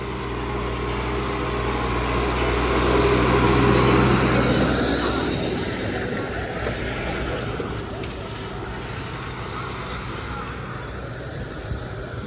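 A steady tractor engine drone runs throughout, loud and continuous with a low rumble, fading slightly after the first few seconds.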